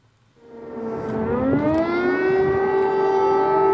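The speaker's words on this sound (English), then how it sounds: "air raid sirens rang out once more over Kyiv" An air raid siren over Kyiv winds up from silence into a loud, sustained wailing tone that holds steady, heard alone without voices.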